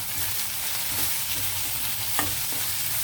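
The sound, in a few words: stirring green chillies and curry leaves into frying chicken curry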